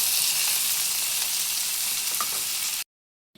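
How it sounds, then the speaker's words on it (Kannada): Masala frying in a hot pan gives a dense, loud, even sizzle that continues steadily, then cuts off abruptly to silence before a brief clink at the end. "ಸ್ವಲ್ಪ ಮಸಾಲೆನೂ ಹುರಿತಾ ಇದ್ದೀನಿ ಫ್ರೆಂಡ್."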